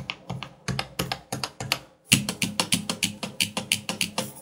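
Keys on an Everest Rampage KB-R88 keyboard pressed one by one, a close, crisp run of clacks in an uneven rhythm that speeds into quicker, louder taps after a short pause.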